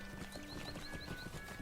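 Hooves of a festive horse mount in the online game Lord of the Rings Online clip-clop in a quick, even trotting rhythm, moderately close and clear over a soft ambient game soundscape.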